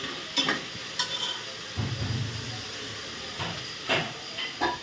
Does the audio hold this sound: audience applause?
no